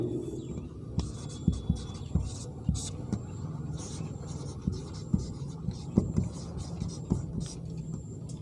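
A pen writing numbered points in a notebook during a Hindi-to-English grammar lesson, soft close scratching strokes with small taps, under a low background hum.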